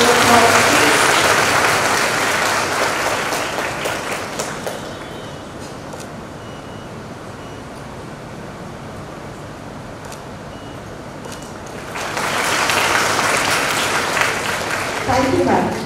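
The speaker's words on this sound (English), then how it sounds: "Srishti Datta, could you have a round of applause," Audience applause at a school award ceremony for recipient Srishti Datta, a broad burst at the start that fades to a quieter, sparse patter in the middle before swelling again near the end.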